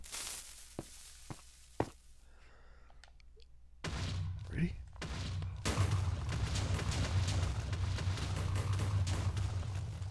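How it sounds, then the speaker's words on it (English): Explosive charges blasting away mountains in Minecraft: a few sharp thuds early on, then a loud, sustained low rumbling roar of blasts and crumbling terrain that carries through to the end. "That's how you blast away some mountains right there."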